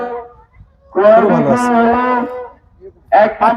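A cow at the busy Diyabari Eid cattle market in 2024 lows loudly and close for about a second and a half, a long deep moo, with short bursts of nearby voices before and after.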